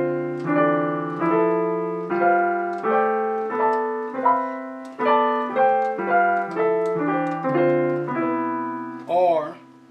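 Solo piano runs through a dominant seventh chord scale, a left-hand root climbing under right-hand harmonized chords, played as about a dozen sustained chords in steady rhythm, close and clear, with a brief voice at the very end.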